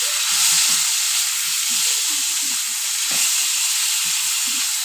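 Sliced green tomatoes fry in a pan with a steady, bright sizzle and hiss, punctuated by soft low bubbling pops throughout, close and continuous with no talking.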